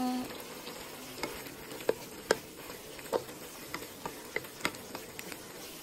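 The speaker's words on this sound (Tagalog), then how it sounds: "Ilagay na natin ang ating isda." Lapu-lapu fish fries in a pan with softened tomatoes, giving a steady close sizzle. Scattered crisp ticks and pops of stirring and spattering come at irregular intervals.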